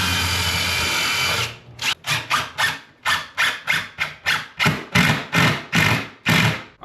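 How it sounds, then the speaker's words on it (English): A power drill drives construction screws into wall studs during a bench build, one long steady whir followed by about a dozen short, loud, rhythmic bursts as the screws are driven home, close up with no talk. "We're gonna find our studs and we're gonna screw them in."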